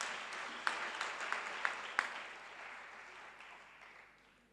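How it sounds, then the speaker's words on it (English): An audience applauds for a school principal at an outdoor bicycle distribution event, a faint, distant patter of clapping with a few sharper claps that slowly fades out. "Let's give her a hand."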